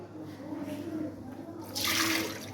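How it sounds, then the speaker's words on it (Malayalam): Water sloshes gently around a bowl of washed, peeled potatoes for French fries, then pours off in a short, bright rush near the end, with a voice speaking over the quieter start. "ഇനി നമുക്ക് വെള്ളം കളയാം."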